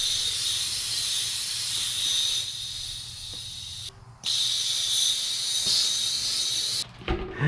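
Loud steady hiss of compressed air from an air compressor inflating a tubeless-ready bike tire on a Schwinn Axum rim with Schrader valves, running continuously with a brief drop near the middle and a sputtering break near the end, no talking.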